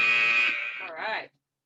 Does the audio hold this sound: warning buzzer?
yes